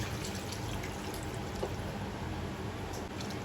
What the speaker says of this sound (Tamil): இப்போ கறி முழுகிற அளவுக்கு தண்ணி ஊற்றிக்கலாம்